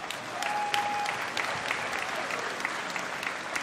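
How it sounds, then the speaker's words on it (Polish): A crowd applauds at an outdoor Kashubian unity day gathering in Bojano, a steady wash of clapping heard from some distance, with a faint tone over it. "Wielkie brawa!"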